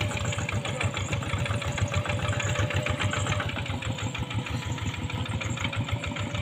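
A tractor engine, ploughing a deep, boggy field, chugs steadily nearby with a rapid, even low-pitched thumping rhythm that continues without pause.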